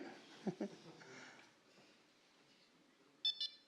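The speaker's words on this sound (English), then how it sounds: "wake Hathor up, and hopefully we're going to hear some beeps in a second" A quiet electronic double beep from satellite electronics waking up sounds near the end, short and high-pitched, after faint handling noise and a soft background hum.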